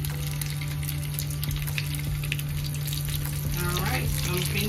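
Chicken taquitos frying in hot oil, a steady crackling sizzle with scattered pops that grows busier near the end.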